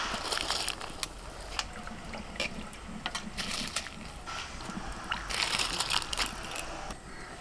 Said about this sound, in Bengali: জল টকবক করে ফুটছে, এবার চাল তুলে দিচ্ছি